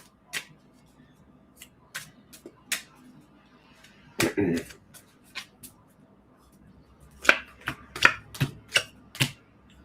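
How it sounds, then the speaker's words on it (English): Tarot cards shuffled and laid down during a live reading, irregular sharp slaps and ticks of cards hitting a surface, with a longer riffling burst in the middle and a quick cluster of snaps near the end, close and otherwise quiet. "For this one, I'm going to throw some cards down."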